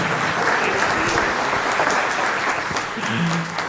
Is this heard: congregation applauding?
yes